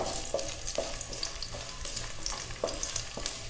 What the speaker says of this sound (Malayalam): ഇപ്പോ ഈ എണ്ണ ചൂടായി വന്നിട്ടുണ്ട് ഇനി നമുക്ക് ഇതിലേക്ക് ഒരു ടേബിൾ സ്പൂൺ വെളുത്തുള്ളി അരിഞ്ഞത് ഇട്ടുകൊടുക്കാം